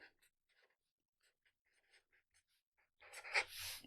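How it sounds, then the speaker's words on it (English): Pen strokes scratching across paper while working through a calculus problem, a series of short faint scribbles, then a louder, denser burst of writing near the end. "I'm going to write down"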